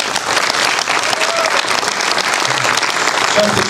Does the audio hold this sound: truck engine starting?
no